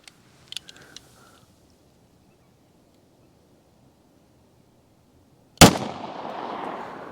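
A single sharp gunshot from a .45 Auto Colt 1911 pistol with a 5-inch barrel cracks out after a long quiet stretch, followed by a lingering noisy tail; a few faint clicks come earlier.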